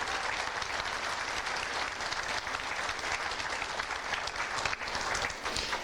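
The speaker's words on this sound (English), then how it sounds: "One last round of applause for the 2026 Masonry class." An audience at a career and technology center certificate ceremony gives sustained applause for the masonry class graduates: many hands clapping in a thick, unbroken roar that holds steady for several seconds, heard from a distance with no talking over it.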